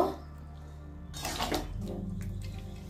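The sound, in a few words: water poured into chicken curry for gravy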